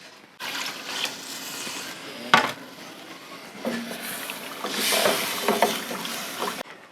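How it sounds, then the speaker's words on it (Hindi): Beef stock (yakhni) boils in a pot for beef pulao, giving a steady rushing, bubbling hiss with a few sharp clinks of a utensil against the pot. No one speaks. "यखनी को बॉयल आ चुका है।"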